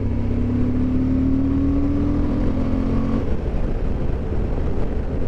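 Engine and intake note from a 2021 Suzuki V-Strom 1050 motorcycle while riding, a steady loud drone with a rising whine that drops off partway, over constant wind rush.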